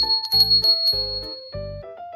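A red toy bell rings in three clear, bright bursts, each ding ringing on with a sustained tone between strikes, close and alone.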